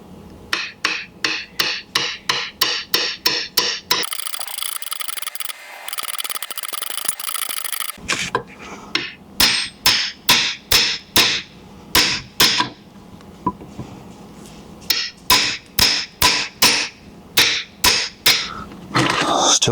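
Metal hammer tapping a part onto the main shaft of a T-150 transmission during a 1976 Jeep CJ-5 rebuild: quick, sharp, evenly spaced strikes in bursts of eight to ten, with a pause of scraping noise between runs.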